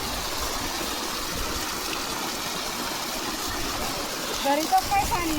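A high-pressure jet of water gushes steadily from a pipe in a farm field, a loud continuous rush with a dog's excited noises and laughing voices near the end.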